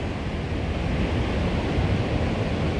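Ocean waves at Balneário Camboriú beach, with work machinery nearby in flooded water, heard as a steady broadband wash of surf and wind-blown rumble with no distinct breaks.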